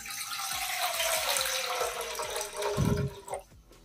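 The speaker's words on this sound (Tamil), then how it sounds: "இதுக்கு ஒரு சோம்பு தண்ணி ஊற்றிக்கலாம்." A tumbler of water poured into an idli steamer pot, a steady close splashing rush lasting several seconds and tapering off near the end, with no talking.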